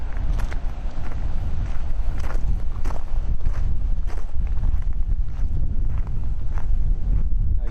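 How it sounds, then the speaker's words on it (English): Steady wind buffeting the microphone, a constant low roar with gusty rustling throughout and no voices. "A little overcast, always windy."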